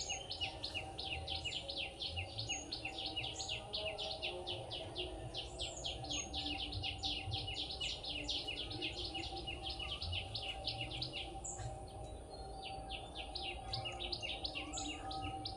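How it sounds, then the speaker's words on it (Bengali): Morning birdsong in a rural Bengal village: repeated bright chirping phrases from several birds over a soft outdoor hum, with insects buzzing faintly and the calls fairly near and steady. "পাখিরা যে ডাকে সকালবেলা"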